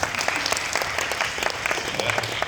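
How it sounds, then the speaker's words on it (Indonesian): Dense applause from a gathered audience welcoming a group of 25 new guides, many hands clapping in a rapid, continuous patter that stays loud and close from start to finish. "Tepuk tangan untuk mereka."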